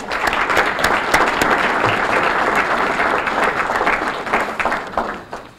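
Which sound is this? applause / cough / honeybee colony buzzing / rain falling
applause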